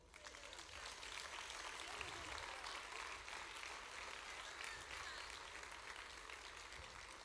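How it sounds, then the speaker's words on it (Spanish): An auditorium crowd claps steadily for several seconds, a dense, even wash of applause heard from a distance. "Un aplauso para ela, por favor."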